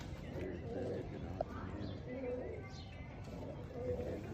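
Soft, low coos from a Mian Nazir bloodline pigeon repeat a few times under muffled background voices, with a brief sharp tap partway through.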